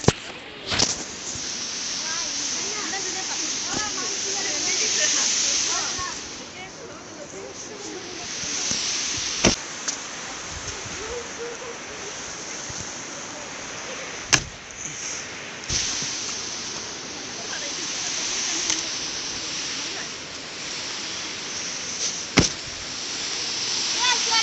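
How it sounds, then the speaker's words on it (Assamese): The Siang river flows as a steady broadband rush of water, moderately loud and continuous, with occasional sharp clicks and faint background voices. "চিয়াং নদীৰ শব্দ শুন"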